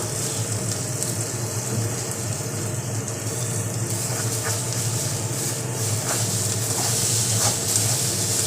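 Oil hisses and sizzles in a hot pan while potol bhorta (pointed gourd mash) cooks, a steady, close frying noise running evenly throughout with no talking.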